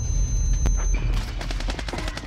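Rapid bursts of gunfire in the video game Call of Duty Warzone crackle loudly and close over a low rumble, with sharp repeated shots clustered in the second half.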